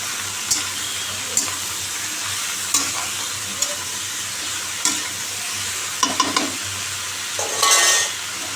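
Ridge gourd and potato curry with panch phoron and green chilli sizzles steadily in a pan, close up, while a spoon stirs and scrapes in scattered clinks, with a brief louder hiss near the end.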